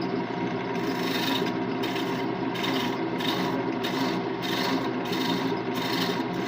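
Threads being chased by hand on a spinning wood lathe, heard as a continuous close rasping scrape with a regular pulsing rhythm, steady and fairly loud throughout.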